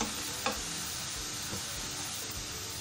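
Chicken korma fries in a pan over a steady, even sizzle while a utensil stirs and scrapes through it, with a sharper clack near the start and a few softer knocks later; no voices.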